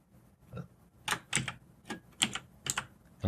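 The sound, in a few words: typing on a computer keyboard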